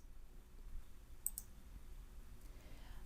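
A few quiet computer mouse clicks in historian training software, faint and brief over a low room hum.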